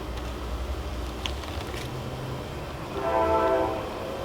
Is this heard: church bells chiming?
no